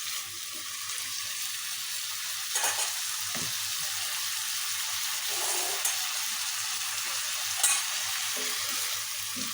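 Chicken pieces frying in a pan with slit green chillies, a steady close sizzle of hot oil with occasional stirring scrapes and a few louder pops throughout.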